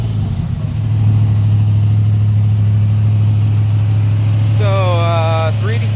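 A 383 stroker V8 in a 1972 Chevrolet Nova, with Hooker Super Comp headers and dual exhaust with cutouts, idles with a deep, steady rumble, then a voice speaks briefly over it near the end.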